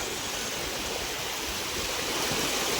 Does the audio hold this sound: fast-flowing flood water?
yes